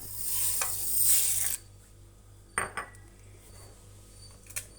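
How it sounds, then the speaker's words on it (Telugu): Fenugreek seeds dropped into coconut oil in a pot, with a loud sizzling rush at first that cuts off suddenly, followed by a few sharp metallic clinks of a spoon against the pot. "దీనిలోకి మెంతులు వేస్తున్నాం మొదట"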